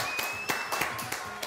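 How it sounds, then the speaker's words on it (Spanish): A studio audience on a TV show claps briefly: a few scattered, sharp claps that sound thin and sparse rather than a full ovation, with a faint tone lingering beneath. "¿Aplausos? ¡Bravo!"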